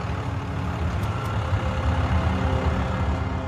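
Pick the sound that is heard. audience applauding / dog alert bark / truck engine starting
truck engine starting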